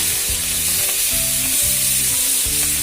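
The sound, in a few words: onion frying in a kadai for veg pizza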